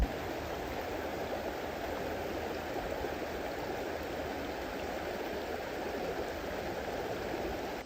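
Creek water rushes in a steady, broadband wash, close and continuous with no breaks, alone without any voices.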